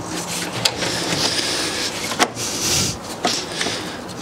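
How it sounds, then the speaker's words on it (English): A BMW radiator is slid down into position in the engine bay, giving close scraping and rubbing sounds of plastic against metal with a few sharp knocks. "I'll just slide it down into"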